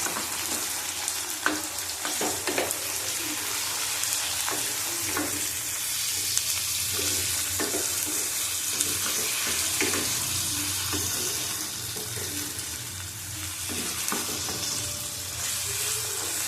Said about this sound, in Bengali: দেখো এখানে 250 মতন চিকেন আছে, দিয়ে দিলাম চিকেনটা।